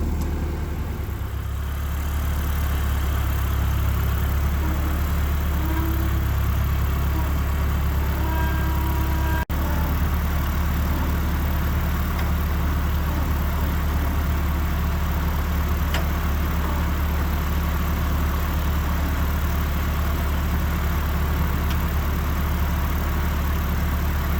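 A 1940s Ford tractor engine idling, a loud, steady low rumble that holds throughout with a slight change in tone near the start, close by with no voices.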